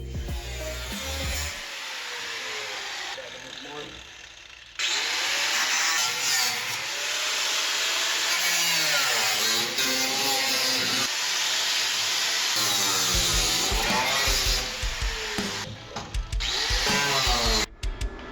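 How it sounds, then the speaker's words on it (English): A Subaru car engine idling just after an EGR valve repair, settling into its relearned idle: a loud, steady mechanical hum with a slight wavering, running continuously close by with a few brief dips and changes. "It sounds like it's running fine. It's relearning its idle. It's not stumbling too much."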